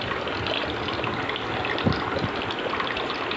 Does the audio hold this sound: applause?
no